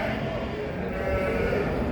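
Sheep bleating at a small-livestock animal market in Çorum, a steady crowded blend of bleats close by, with people talking over it.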